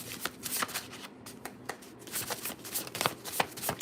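A deck of tarot cards being shuffled by hand, a steady run of riffling and flicking card bursts close up, with no talking.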